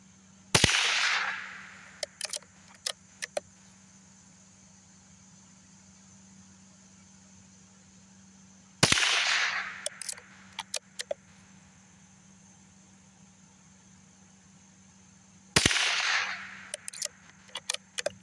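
Three sharp, loud reports from a Rossi RB22 rifle on an outdoor shooting range, spaced several seconds apart, each followed by a brief ringing decay and scattered small clicks of handling, over a low steady hum.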